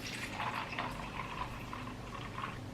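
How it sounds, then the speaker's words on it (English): Lemonade pours into a plastic Starbucks cup, a close, steady gurgling fill with bubbling liquid sounds throughout and no talking. "So we're gonna pour the lemonade to the third line"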